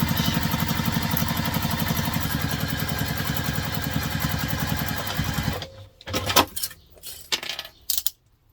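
Sewing machine top stitching along the seam of a Peregrina Crosspack bag, a steady rapid mechanical chatter for about five seconds before it stops, followed by a few scattered handling clicks and taps.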